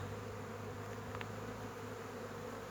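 Honey bees buzz around an open hive frame in a continuous close drone that stays steady and alone throughout, with no one talking.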